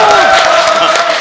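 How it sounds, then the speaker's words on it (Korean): A packed hall of audience members at a Korean talk show claps and cheers loudly, with a tonal musical line running through the crowd noise. "큰 박수로 저희가 시작을 하도록 하겠습니다"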